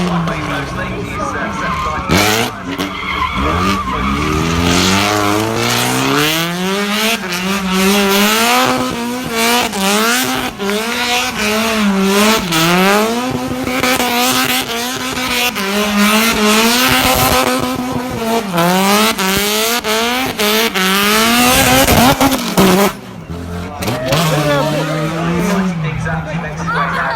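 A race car drifts sideways around a track at Carfest North, its engine revving and wailing up and down in long sweeps with tyre squeal, loud and close, while a commentator talks over it.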